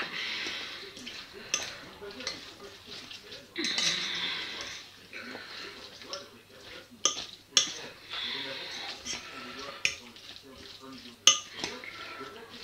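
Food stirred in a pan with a utensil, repeated scraping and clinking strokes close by, with light sizzling underneath and a voice talking between the strokes.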